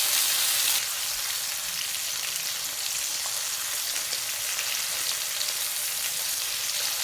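Pork liver sizzles steadily in a hot pan over medium heat, a bright continuous crackle at close range with no talking.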